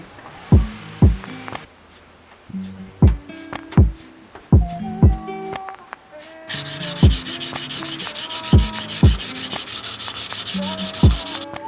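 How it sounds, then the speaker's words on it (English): Steady hand sanding of Bondo body filler on a rust repair patch of an NB Miata, close, loud rhythmic rasping strokes, one after another, continuing without voices. "So I have it completely sanded now"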